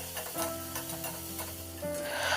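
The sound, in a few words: ginger garlic paste sautéing in a pan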